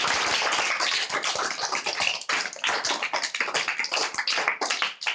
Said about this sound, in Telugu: ఈ సందర్భంగా ఒకసారి క్లాప్స్ కొట్టండి